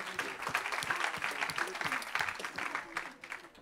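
Warm applause from a gathered audience for a team, steady clapping throughout with voices mixed in under it.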